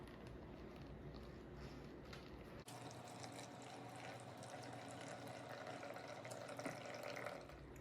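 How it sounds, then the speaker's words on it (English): Lye solution made from wood ash is poured through an old shirt into a funnel, a soft steady trickle and gurgle of liquid that grows fuller and splashier partway through. "now I'm just going to pour the solution through this old shirt to just capture just the clear liquid"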